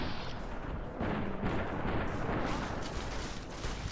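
A grenade blast in the video game Fallout: New Vegas produces a loud, rumbling explosion that rolls on into a sustained roar of debris and echo, with no speech.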